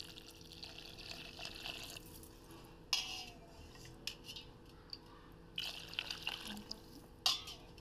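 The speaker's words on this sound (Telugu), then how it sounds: "తర్వాత వాటర్ యాడ్ చేసుకోవాలి." Three cups of water poured into a clay pot holding jaggery mixed with cardamom powder, pepper powder and tulsi leaves for panakam, heard as faint splashes and trickles with a few louder bursts and light clinks against a quiet background.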